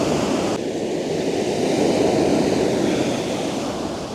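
Rough Black Sea surf on the beach at İğneada, heard as a loud, continuous broadband roar of breaking waves mixed with steady wind buffeting, close and unbroken throughout with no speech.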